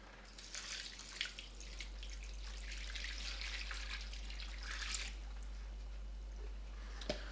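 Just over a quart of water is poured into about 23 pounds of ground venison for Polish kielbasa, a continuous splashing trickle that eases off after several seconds, followed by a faint knock, with no talking.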